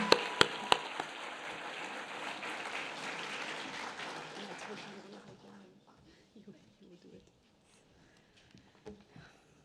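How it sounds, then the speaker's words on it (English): Warm applause for a graduate at a summer graduation ceremony: a full crowd claps loudly at first with a few sharp close claps, then the clapping thins and fades out, leaving quiet room sound with faint scattered noises. "please, please, everyone, give her a super warm round of applause"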